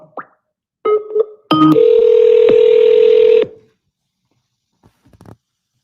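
A telephone call being dialed: a few short keypad tones, then a loud steady dial or ringing tone lasting about two seconds. Faint clicks follow in near silence.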